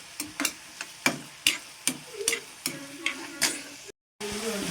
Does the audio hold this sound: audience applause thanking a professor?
no